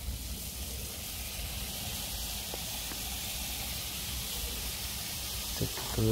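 Chicken pieces hit a hot pan of browned spices for a Bengali deshi chicken curry, giving a steady, close sizzle and hiss that swells slightly near the end, with no talk.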